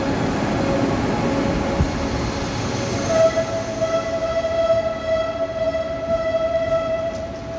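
An SRT high-speed train from Suseo to Busan pulls away from Dongdaegu station, with a loud rumbling roar from the start and a sustained tonal whine that rises as the train moves off, and no talk over it.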